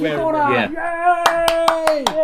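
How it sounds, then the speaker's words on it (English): A voice speaks briefly, then a few sharp hand claps ring out, about five quick claps in an uneven rhythm, close and loud. "So self-applauding."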